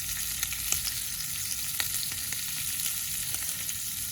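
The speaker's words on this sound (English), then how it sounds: "all I have to do is to put in some seasoning and then get them browned up a little bit more" Pre-cooked limpets fry and brown in a pan on a camp stove inside a truck, a steady bright sizzle with faint pops and occasional light ticks of stirring, close and fairly quiet, no talking.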